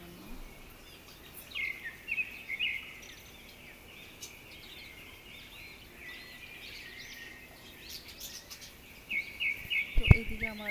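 Small pet birds kept indoors, some of them nesting on eggs, chirp faintly in scattered bursts over a quiet room, growing a little busier near the end where a few brief knocks sound.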